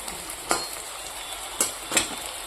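Bitter gourd frying in a pan with a steady sizzle, punctuated by three sharp scrapes or stirs of a spatula at uneven intervals; no voices.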